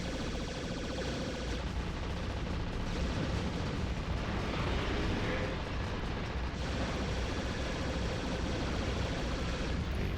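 Rockets explode in the video game Metal Arms: a continuous roar of booming blasts and rumbling detonations, loud and close, with bursts swelling and fading over a noisy combat backdrop and no talking.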